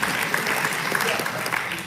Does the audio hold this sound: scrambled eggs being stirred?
no